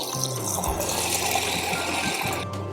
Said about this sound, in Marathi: ह्यामध्ये आता परत पाणी घालून घेते.